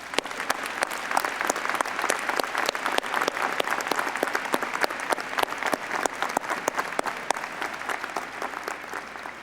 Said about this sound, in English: give your parents a round of applause for all the sacrifices they've made to get you here today